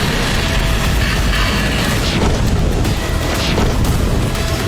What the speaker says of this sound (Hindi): आधी रात को रूस ने एक बार फिर यूक्रेन की राजधानी कीव, पश्चिमी यूक्रेन और दक्षिणी यूक्रेन में जबरदस्त बमबारी की।